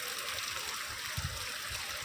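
Floodwater in a river rushes and gurgles steadily during rain, a continuous churning flow with occasional low surges.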